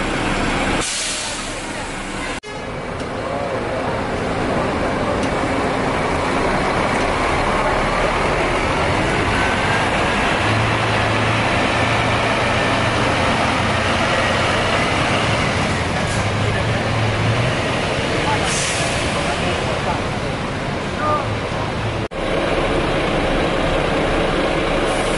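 Newly delivered Volvo buses of the Sempati Star fleet in Pekanbaru idle with a steady low engine rumble, joined by loud bursts of air-brake hiss near the start and around the twenty-second mark, with people talking in the background throughout.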